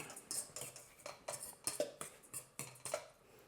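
Flour mixed with Parmesan cheese in a dish, a quiet repeated scraping and clinking of a utensil against the dish in rhythmic strokes, close and faint.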